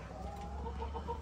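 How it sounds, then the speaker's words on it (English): Hens and roosters of a Light Sussex flock cluck softly in a chicken yard on an Ontario homestead in fall, faint, scattered calls over a low steady background with no talk. "it looks like we got a few hens and a couple of roos"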